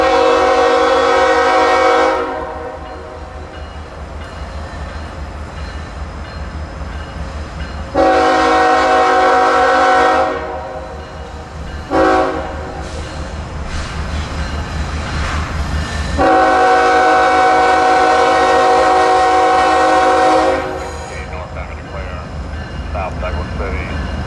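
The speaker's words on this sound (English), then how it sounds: "There's nothing like the echo of a train horn surrounded by forest for miles" Loud, repeated blasts of a coal train horn, several long and one short, echo widely through forest over the steady rumble of the passing train, pulled by two GE and one EMD locomotives.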